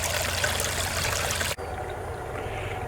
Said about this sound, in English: You can actually see the water pouring out of the GOLDROP and then running down the sluice